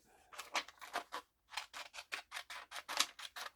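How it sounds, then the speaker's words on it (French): Scissors cut through paper for a Halloween decoration, a close, quiet series of crisp snips in a steady rhythm with one short pause partway through. "Je vais découper ici."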